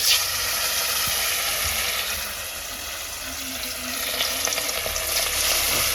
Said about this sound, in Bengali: নুন হলুদ মেখে নিয়েছি, এখন ভাজবো